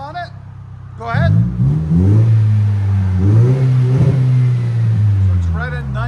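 Turbocharged 2.4L Toyota Tacoma with a Magnaflow Magnapack muffler revs, its loud exhaust drone rising and surging over several seconds, with short bits of speech just before and at the very end.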